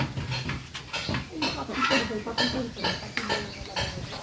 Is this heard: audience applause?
no